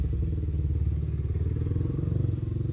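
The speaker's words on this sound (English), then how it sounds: "let the motorbike pass." A motorbike passes nearby, its engine a steady rumbling drone with rapid low pulsing, fairly loud throughout with a slight swell toward the end.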